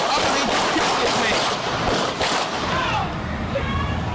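Gunshots ring out in street footage of the Ferguson shooting, several sharp bursts close together over the first few seconds amid loud, noisy background commotion, with no clear speech.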